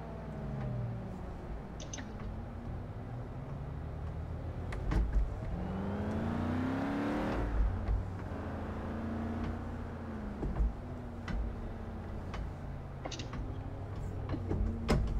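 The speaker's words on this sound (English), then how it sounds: "that's the rev limiter" A car engine in the Forza Horizon 3 racing game revs up hard toward its rev limiter, a buzzy harmonic drone with a rising sweep in the middle, steady and fairly loud throughout with no talking.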